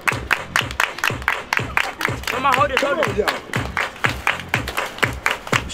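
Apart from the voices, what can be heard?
crowd clapping hands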